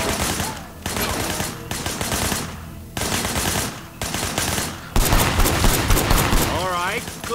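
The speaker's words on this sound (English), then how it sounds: "I want you to put some bullets in a few things. Okay, why am I shooting that stuff?" Rapid automatic gunfire in the video game Sleeping Dogs, repeated bursts separated by short gaps, loud and close, with a voice talking between the volleys.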